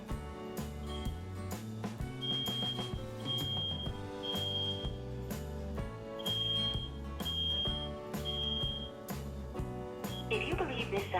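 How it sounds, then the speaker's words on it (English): Smoke alarm beeps played back over a phone call from a smart nightlight alert, repeating high tones in regular bursts over a dense, buzzy tonal background. "Your Leeo Smart Alert nightlight at home has detected what sounds like a smoke alarm."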